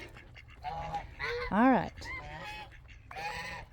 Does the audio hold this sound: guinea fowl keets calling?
yes